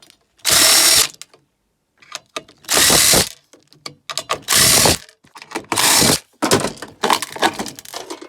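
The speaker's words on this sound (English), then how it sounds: "Just an awful lot of screws and got a nut runner on the end of that." A power nut runner backs out a long run of non-magnetic stainless steel screws from an inverter being broken up for scrap, in loud repeated whirring bursts of about a second each with brief gaps between them.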